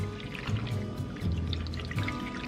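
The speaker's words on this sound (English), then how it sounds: "And lastly, we're just gonna add 3 cups of water." Three cups of water pouring steadily into a casserole baking dish, a close, continuous splashing gurgle lasting a couple of seconds.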